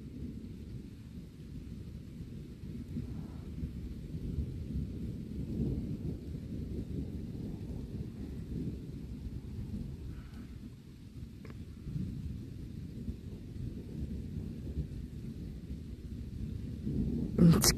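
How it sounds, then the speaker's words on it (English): A low, continuous rumble of distant thunder rolls on for a long stretch, faint and steady with only slight swells. "It's very small thunder, guys."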